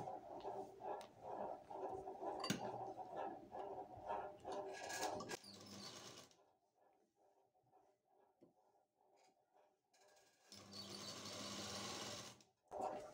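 A sewing machine runs in steady rapid bursts while stitching a kurti hem, its close, even rattle stopping and starting across several runs with quiet pauses between.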